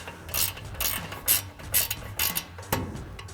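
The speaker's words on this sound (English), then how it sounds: "you can grab an 18 millimeter ratcheting wrench" An 18 mm ratcheting wrench working a control arm nut on a Ford F-150. Several crisp, close ratchet clicks come in a steady rhythm, each stroke followed by a short pause.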